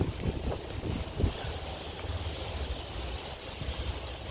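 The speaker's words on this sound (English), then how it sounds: "It's so windy." Strong outdoor wind buffeting a microphone, a steady low rumble with gusty bursts, loud and continuous with no speech.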